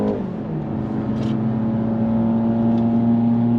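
A 2023 BMW 330i accelerates on a highway, its engine note a steady rising drone with a low tonal hum heard from inside the car, accompanied by road and wind noise and no talking.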